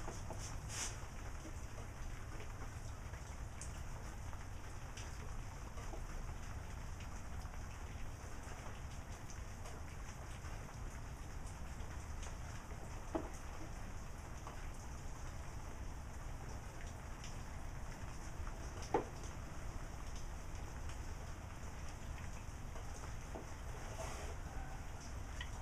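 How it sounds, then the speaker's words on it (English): Steady rain falls outdoors at a woodworking spot, a constant soft hiss with scattered drops tapping nearby surfaces and no voices. "I'm surprised to see the rain out here"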